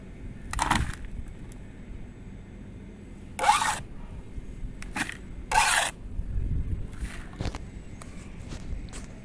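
Mixed potting soil is scooped and tipped into a plant pot during repotting: several short, gritty scraping and pouring bursts separated by quieter rustling and handling noise.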